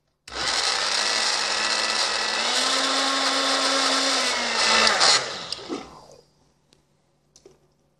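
A blender mixing injera batter whirs loudly at close range for about five seconds, then winds down and stops, followed by a few faint clicks.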